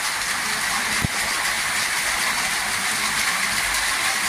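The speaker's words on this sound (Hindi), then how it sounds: "देखिए कैसे बारिश हो रहा है" Steady rain falls outdoors, a dense, even hiss that holds at the same level throughout, with one brief soft knock partway through and no voices.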